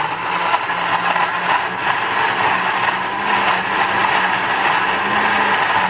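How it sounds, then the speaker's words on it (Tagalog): A blender mixing goat biryani ingredients whirs continuously at a steady, loud pitch from start to finish, with no voices over it. "sa ating blender para madaling mahalo"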